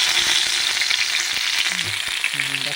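Spices sizzle in a pan as the base for a fish curry, a loud, continuous frying hiss with scattered crackles and occasional stirring clinks and scrapes, no talking.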